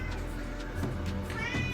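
Near a farm kitchen, a cat gives a couple of short meows over a low background hum.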